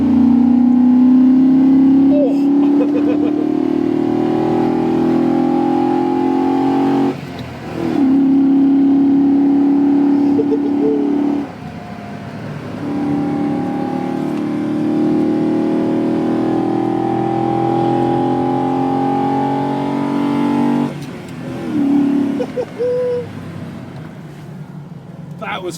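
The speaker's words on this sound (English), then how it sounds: "That flat plane V8 sounds so good" A Lamborghini Huracan's flat-plane V8 revs on a drive through the Dolomites, a loud, sustained engine drone that rises and dips with brief breaks, with people talking over it.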